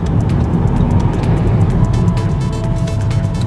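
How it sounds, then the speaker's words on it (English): A Jaguar V6 F-Type pulls up on a busy London street, a loud, close engine rumble rising over dense traffic noise, steady throughout with no voices. "It's a V6 F-Type."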